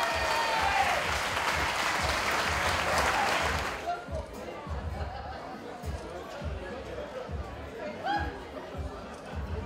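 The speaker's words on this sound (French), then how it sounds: "On peut applaudir Olivier Claudon," Audience applause for a performing artist at a live event, a dense burst of clapping for about four seconds that then gives way to quieter crowd murmur and scattered talk.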